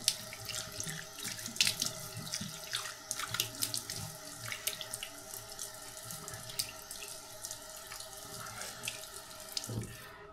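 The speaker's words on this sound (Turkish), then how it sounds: "bir yüzümü yıkamak istiyorum" A water tap runs steadily into a bathroom sink while someone washes their face before a traditional wet shave, the close, continuous splashing stream lasting throughout.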